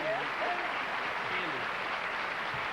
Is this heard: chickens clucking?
no